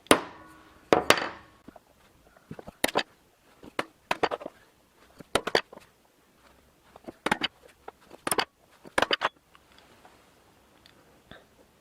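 A hammer strikes a punch to make dimples in metal held in a vise, sharp metallic blows landing singly and in quick clusters, separated by quiet pauses.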